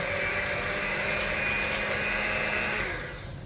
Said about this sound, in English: So as you know, with whisks, you always start low.